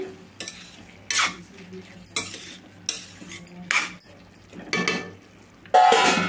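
Eggplant curry is stirred in a pot on the stove over a low sizzle, with repeated scraping strokes of a spoon, clinks of metal, and a lid being lifted and set down in separate bursts.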